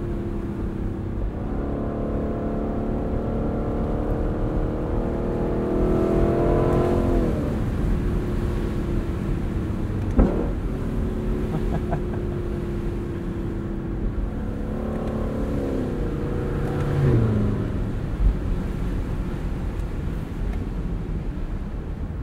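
A 2021 Lexus LC 500 convertible engine pulls steadily while driving, rising in pitch through two strong accelerations with gear changes and settling between them, loud and close with no talk.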